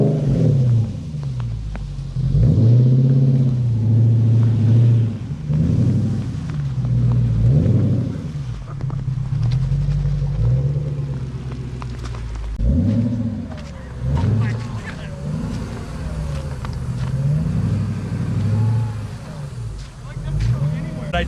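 A manual, supercharged Lexus GS400 is driven through snow, its engine rumbling low and surging in repeated revs as the car powers along. A person talks over the engine for most of the stretch.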